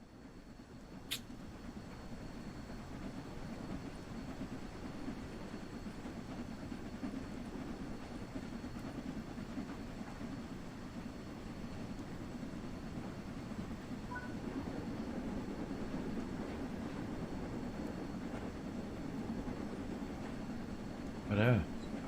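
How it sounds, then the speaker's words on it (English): Steam locomotive on the Peak Forest railway rumbling along at a steady, moderate volume, a continuous low churn with faint metallic ticks and a brief louder burst near the end, voices occasionally present. "Now that the locomotive is moving, you can open the regulator some more."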